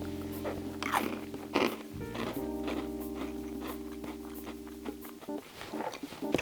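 Biting and chewing cranberry cheesecake overnight oats that are about half a year old, close-up crunchy bites and chewing over a steady background hum.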